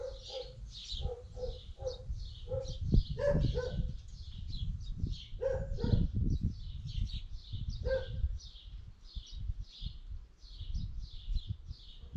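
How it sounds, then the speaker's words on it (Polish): Dogs on a farm barking at a distance, a few faint irregular barks mixed with steady high chirping birds over a low rumbling background, no talk. "Psy się denerwują."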